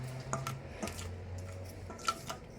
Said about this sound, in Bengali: ভালো করে চামচ দিয়ে মশলা আলুটাকে মাখিয়ে নেওয়া হচ্ছে।